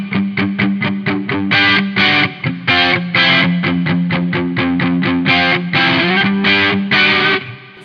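Electric guitar plays a rhythmic, palm-muted 80s-style crunch riff, steady choppy distorted chords repeating loudly with short pauses, no voices.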